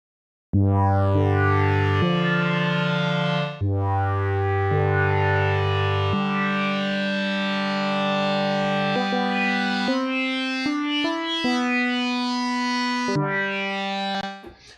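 An Ableton Live Drift software synthesizer plays sustained, harmonically rich notes in stereo, moving through a series of held pitches and stepped melodic changes with a brief gap, loud and continuous with no talking.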